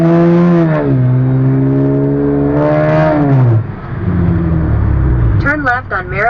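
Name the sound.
Hummer with aftermarket exhaust pipes revving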